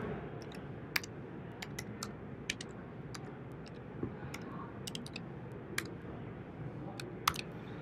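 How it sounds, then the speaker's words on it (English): Scattered keystrokes on a computer keyboard, light irregular clicks over a low background hum. "and start typing."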